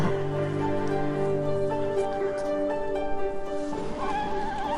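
Mongolian horses neighing, with several loud whinnies rising over a steady tonal background, some faint clip-clop, and no clear talking.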